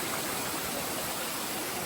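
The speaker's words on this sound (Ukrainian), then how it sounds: "Водоспад Женецький гук." Zhenetskyi Huk waterfall near Mykulychyn, about 15 metres high, roars as a steady, dense wash of falling water, broadband and constant with no pauses.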